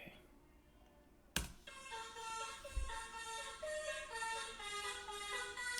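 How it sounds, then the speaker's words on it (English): A car horn honk rings out as part of a music track, a sharp burst followed by sustained bright, harmonic tones layered with the song's instrumentation. "The honk."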